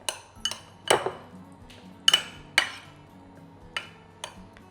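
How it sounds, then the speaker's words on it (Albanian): Metal utensil knocks and scrapes against a pan as shrimp are stirred with smoked pepper while cooking creamy rice, giving several sharp, spaced clinks over a low steady background. "Përzihen mirë, në mënyrë që secili karkalec të merr shijen këtu."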